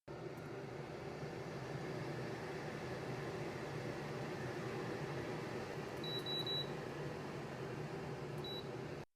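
A fiber laser engraver running at full 100% power gives a steady, even hum and hiss that stays constant throughout, with a few short high beeps near the end.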